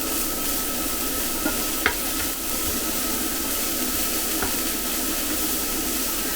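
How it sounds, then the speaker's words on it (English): Pancetta fries and renders in a hot pan, a dense continuous sizzle with a low background hum and a couple of faint clicks, close and steady, no talking. "we want to fry this until the fat is rendered out and the pancetta is going nice and golden"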